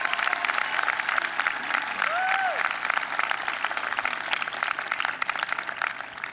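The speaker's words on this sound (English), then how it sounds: "How about a huge round of applause for our amazing staff?" A large crowd at a high school graduation ceremony applauds steadily and loudly, with one brief whistle rising above the continuous clapping midway through.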